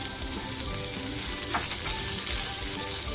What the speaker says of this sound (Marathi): थोडंसं तेल टाकते लसूण जी कापून घेतली आहे ती लसूण टाकते तेल अगदी छान तापले